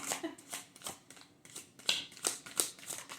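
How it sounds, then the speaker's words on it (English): Tarot cards shuffled by hand in a series of quick riffling bursts, about eight rhythmic rustling strokes separated by short pauses, close and moderately quiet with no talking. "Trying to figure out the best way to actually shuffle these"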